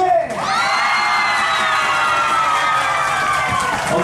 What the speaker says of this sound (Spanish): Fuerte los aplausos para participante número uno.